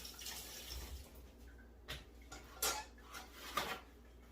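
A teaspoon is rinsed under running water at a kitchen sink, faint splashing with several light metallic clinks and knocks scattered through a short stretch.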